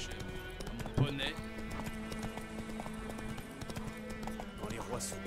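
In The Witcher 3, a pony's hooves clip-clop at an even walking pace, fairly close and clear, while a voice talks over it and a brief whinny-like sound rises near the first second.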